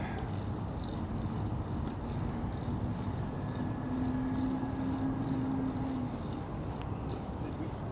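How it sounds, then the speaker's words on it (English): An NYPD police drone flies overhead, its faint, steady motor whine rising briefly above constant wind and outdoor noise. "NYPD drone."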